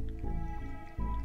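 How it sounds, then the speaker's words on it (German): Water drops dripping in the video game Life Gallery, a short run of wet, squishy drip tones with a clear break partway through, close and fairly loud. "Okay, war halt einfach nur ein paar Tropfen."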